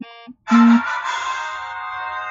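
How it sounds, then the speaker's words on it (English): A computer notification chime sounds during a livestream: two short soft blips, then a loud sustained bright ringing tone that slowly fades over about two seconds, with no talking. "Forgot to turn off notifications."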